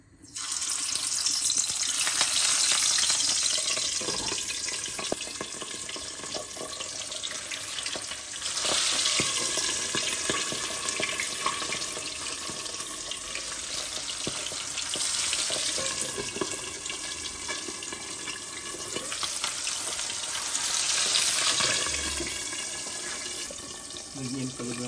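Salmon head and tail sizzling in hot oil in a pan, a steady crackling fry with swelling bursts of spatter and occasional clatter, close and continuous with no talk.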